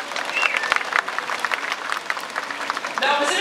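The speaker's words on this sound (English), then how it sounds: "Let's give them a round of applause, folks." Audience applause at a dolphin show at the Vancouver Aquarium, a steady wash of many hands clapping that rises slightly near the end and stays dense throughout.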